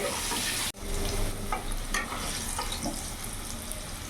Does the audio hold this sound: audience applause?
no